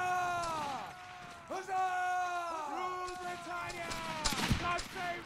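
A crackling musket volley in the Roblox Waterloo game, with British 95th Rifles fighting the 33rd Regiment of Foot. A brief burst of overlapping shots comes near the end, beneath sustained shouting and drawn-out voices that fill most of the clip.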